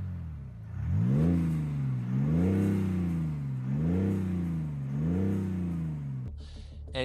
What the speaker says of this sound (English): It sounds very sporty. It doesn't really sound just like a diesel.